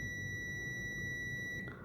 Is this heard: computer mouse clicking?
no